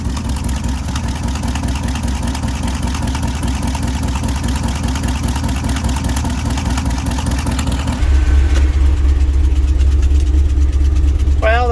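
A 1967 International 4x4 truck engine runs after twenty years of sitting, a steady rough idle that shifts to a louder, deeper note partway through.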